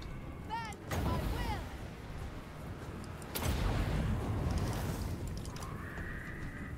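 Orc missile fire striking a giant in a fantasy battle video game, heard as loud booming impacts and crashing bursts over a dense battle din, with a short whistling projectile sound near the start.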